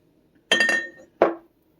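A one-pint glass whiskey bottle, mouth-blown in a mold with bubbles and imperfections, found while river searching the Cuyahoga, clinks twice close up: a ringing first knock with a short rattle, then a second brighter clink.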